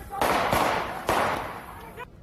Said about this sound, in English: That's when officers got out and fired at Leachman.